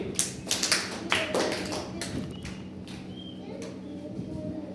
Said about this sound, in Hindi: चलो तालियां बजाओ इसके लिए।